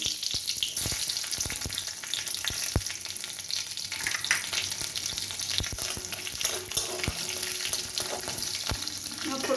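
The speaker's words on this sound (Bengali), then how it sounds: "এবার এই তেলের মধ্যে আমি কালো জিরে তেজপাতা একটা কাঁচা লঙ্কা ফোড়নে দিয়ে দেবো" Nigella seeds, a bay leaf and a green chilli crackle and sizzle in hot oil, a close, steady frying hiss broken by sharp spitting pops, with no voices.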